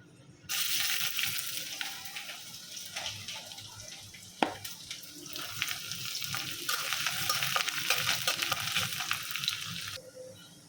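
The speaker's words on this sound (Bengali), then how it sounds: "প্রথমে হলো মরিচটা একটু লাল করে বাজে নেব এখন দিয়ে দেবো রসুন কুচি" Dried chillies and chopped garlic fry in hot oil with a steady, dense sizzle for about ten seconds. A single sharp clink of a utensil cuts through partway, the frying sounds close, and no one speaks.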